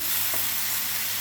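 Fried potatoes stirred into a pot of potato biryani, made with salt and without a pressure cooker, a brief steady sizzle with one soft stirring knock and no voice.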